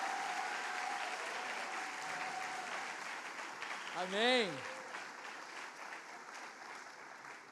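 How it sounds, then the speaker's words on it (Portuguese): A church congregation claps steadily at moderate distance, a continuous soft wash of hands, while a voice briefly calls out in the middle. "você pode aplaudir até para relaxar"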